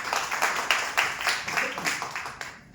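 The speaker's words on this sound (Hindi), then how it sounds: "एक जोरदार ताली होनी चाहिए" Audience clapping at a water-user testimonial gathering, a short burst of fairly quick, distinct handclaps that fades out at the end.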